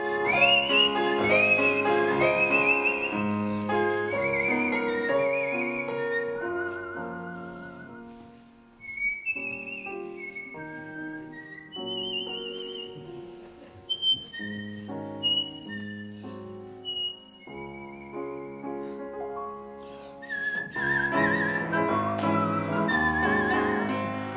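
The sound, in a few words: person whistling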